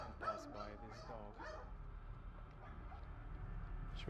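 A dog barks in a quick cluster of short yaps at the start, then falls quiet, leaving a low steady outdoor rumble for the rest of the moment.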